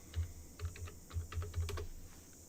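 Soft, close keystrokes on a computer keyboard come in short uneven clusters, quiet and dull, with a faint room hiss behind and no speech.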